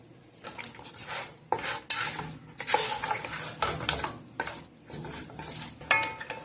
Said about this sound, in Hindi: छोटी छोटी टमाटर जो है वो डालेंगे और एक मीडियम साइज का प्याज डालेंगे और इनको मिक्स करेंगे।